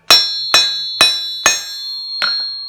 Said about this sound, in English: So this is a Brooks cast steel anvil, really noisy.